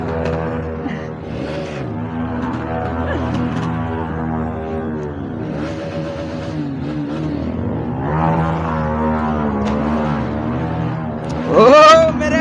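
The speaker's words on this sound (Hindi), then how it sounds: "मनोज भाई की बाइक काफी ज्यादा खतरनाक साउंड कर रही है भाई।" A motorcycle on a night Diwali ride rumbles and revs with a loud, harsh exhaust, its engine droning steadily with a sharper rise near the end while men chatter excitedly over it.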